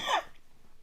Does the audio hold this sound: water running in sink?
no